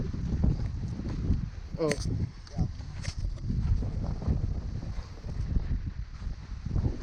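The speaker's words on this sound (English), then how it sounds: "it's windy and it's keeping me cool enough" Wind gusts buffet a fishing boat on the Columbia River, a steady rushing roar across the microphone with a brief voiced exclamation and short tonal chirps partway through.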